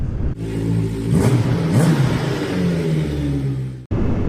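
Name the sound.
Vincent motorcycle engine revving through first gear change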